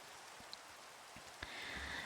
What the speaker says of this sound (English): Sorry it's so rainy and thundery.